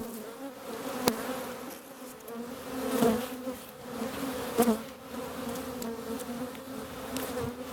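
Honeybees buzzing around a slightly opened hive during a spring apiary visit after bad weather, a dense steady drone with occasional louder passes near the microphone.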